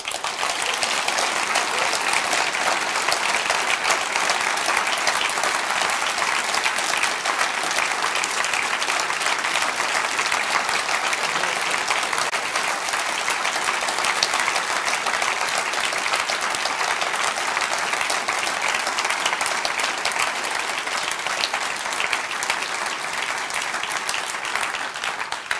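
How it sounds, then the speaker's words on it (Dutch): A hall audience applauds Rob Jetten at a D66 party gathering, a long, even wash of clapping that holds steady at the same level for the whole stretch without a break. "een groot applaus vragen voor Rob Jetten"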